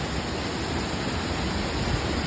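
Phlio waterfall in Chanthaburi, Thailand, gives a steady, dense rush of falling water, close and continuous with no pauses and no voices.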